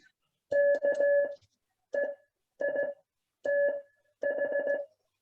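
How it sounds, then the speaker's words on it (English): Morse code tones keyed on an iambic paddle in five quick bursts of beeping dits and dahs, clean and steady, separated by short silences. "I send it down on the iambic to hear the difference"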